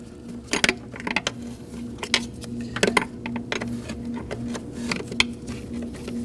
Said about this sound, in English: Using a 10mm wrench, crack them loose.